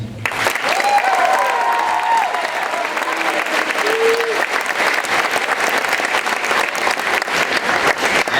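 Sustained applause from a concert audience honoring graduating seniors at a school spring vocal concert, steady dense clapping filling the room for the whole stretch, with a brief vocal murmur near the start.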